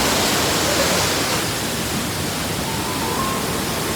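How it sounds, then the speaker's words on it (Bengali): Kanchenjunga waterfall pouring steadily, a dense, continuous roar of rushing water filling the scene at close range with no pauses. "এই যে ফলস, ভালোই ফলসের জল আছে।"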